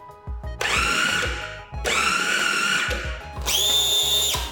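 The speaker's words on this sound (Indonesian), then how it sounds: "segera masukkan ke dalam food processor atau chopper. Kemudian proses hingga halus." A food processor or chopper whirs loudly through a frozen ice cream mixture in three bursts, each a steady high-pitched motor whine with pauses between them.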